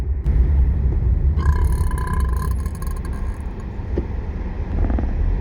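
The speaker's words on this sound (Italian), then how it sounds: "Che rutto!" A loud, drawn-out burp rumbles through a car interior over steady engine noise, a single low guttural belch lasting about a second.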